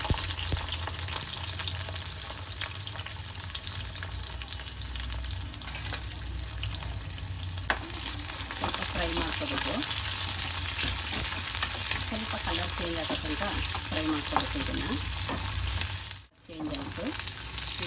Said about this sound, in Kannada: ಆಯಿಲ್ ಬಿಸಿಯಾಗಿದೆ ಆಗಿದೆ ಅದಕ್ಕೆ ಕಟ್ ಮಾಡಿರೋ ಈರುಳ್ಳಿ ಹಾಕೋತಾ ಇದ್ದೀನಿ